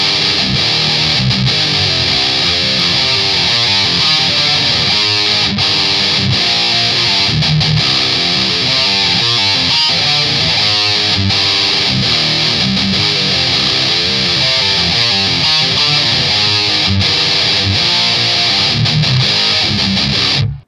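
Electric guitar through a Boss MT-2 Metal Zone distortion pedal roars with thick, saturated, fizzy distortion, playing continuous heavy riffs loud and close throughout, with no talking.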